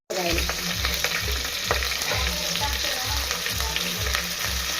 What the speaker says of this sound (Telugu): కొన్ని జీలకర్ర వేసుకుంటే ఫ్లేవర్ బాగుంటుంది బాగుంటుంది మంచి వాసన వస్తుంది ఇదిగోండి జీలకర్ర కొంచెం అది కరివేపాకు తీసుకోవచ్చు